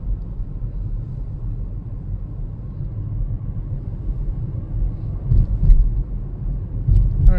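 A car drives through a winter snow blizzard in St. Paul, Minnesota, heard from inside as a low steady road rumble that swells briefly with heavier thumps near the end.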